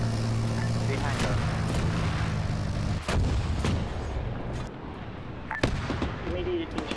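Mortar shelling in a military video game: loud, dense battlefield din with repeated heavy booms and blasts, engines rumbling beneath, and radio-style voices talking over the fighting.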